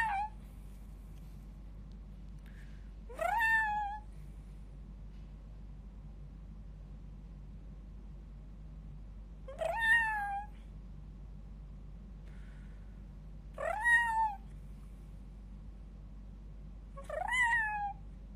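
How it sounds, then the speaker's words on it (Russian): A cat inside a church gives four separate rising meows, spaced several seconds apart, over a quiet low hum. "Кошка в церкви."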